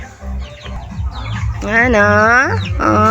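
Backyard chickens pecking at a pile of coconut and rice cluck loudly and close by, with several drawn-out calls near the end and a voice murmuring briefly among them.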